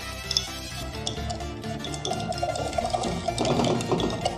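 A silicone and thinner mixture is shaken in a container for waterproofing a bag, making sloshing liquid sounds that grow louder and busier toward the end, close and without talk.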